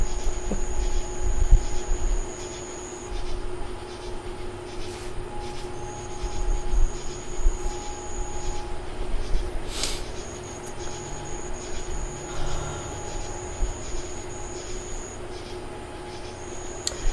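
A passing train on a summer evening, its rumbling wagons and occasional wheel squeal carrying steadily under chirping crickets for the whole stretch, fairly distant and continuous with no talk.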